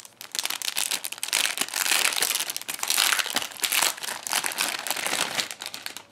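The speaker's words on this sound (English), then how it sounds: "I'm going to put the box together real quick so you guys can see what that looks like" A small cardboard card storage box gets folded together, a close, busy run of crinkling and creasing with scraping rustles and flaps, continuous throughout.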